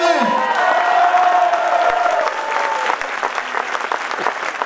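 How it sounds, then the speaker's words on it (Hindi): A crowd at an Oswal community cultural festival in Sujangarh bursts into loud applause and cheering, with whoops and shouts over the clapping that ease a little toward the end. "एक बार जोरदार चिल्ला के तालियां बजाइए"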